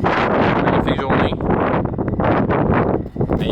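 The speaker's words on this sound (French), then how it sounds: "Mais il vente en tabarouette, ça c'est sûr." Strong gusting wind buffets the microphone outdoors on a summer road trip through Gaspésie and New Brunswick, a loud, continuous rushing roar with surging gusts and no speech heard.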